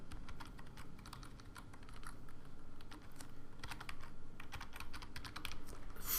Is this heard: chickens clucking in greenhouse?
no